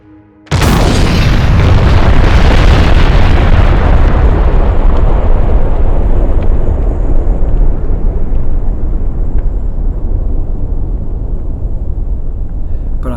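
A huge explosion outside a window in the early morning, one sudden deafening blast that swells into a long heavy rumbling roar and slowly fades over many seconds.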